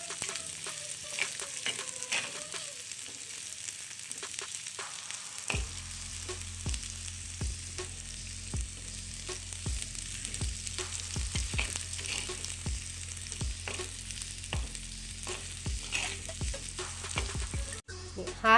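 A prawn filling with green chilies fries in a pan under stirring, a faint sizzle at first, then a steadier frying hiss with regular scraping strokes of a spoon against the pan.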